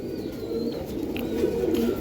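Rabbani-bloodline Giribaz pigeons in a crowded loft keep up a continuous soft, rolling coo, many voices blending near the listener.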